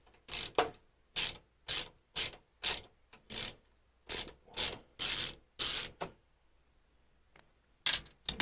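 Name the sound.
thumb screw being loosened on a PC case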